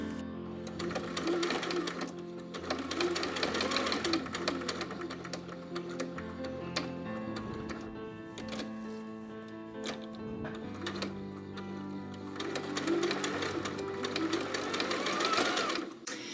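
A sewing machine top-stitches around the edge of fabric bias binding, running in long continuous bursts with brief pauses, close and steady with no talk.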